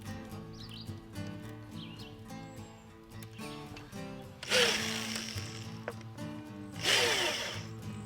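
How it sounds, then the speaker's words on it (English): A power drill drives two screws during furniture assembly: two loud, separate whirring bursts, each lasting a couple of seconds, over a quiet background with faint bird chirps. "I'm going to put these 2 screws in."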